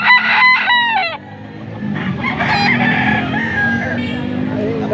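Chickens and roosters at a poultry market in Angeles, Pampanga, crow and cluck close by, with a rooster's crow loud at the start over a busy crowd murmur and faint talk.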